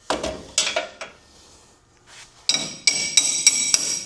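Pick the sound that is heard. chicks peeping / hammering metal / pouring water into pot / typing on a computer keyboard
hammering metal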